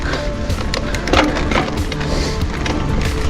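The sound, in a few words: noisy mountain bike transmission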